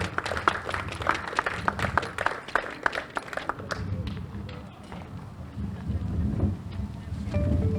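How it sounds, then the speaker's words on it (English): Crowd applause for the male 10K winner at the CARICOM 10-K Road Race awards ceremony in Saint Lucia, a dense burst of clapping for the first few seconds that thins into a low, windy outdoor rumble. "A round of applause."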